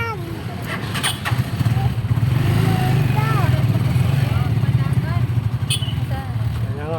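Motorcycle engine rumbling past on a street after a crash, a loud low drone that swells in the middle and fades, heard under excited nearby voices and street noise.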